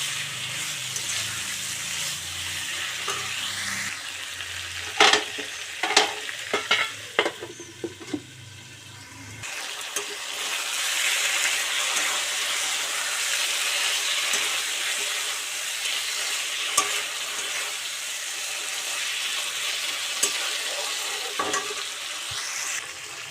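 Chicken curry sizzling and frying in a little oil while being stirred in a pan, with scraping stir strokes early on and a steady close hiss throughout; no one speaks.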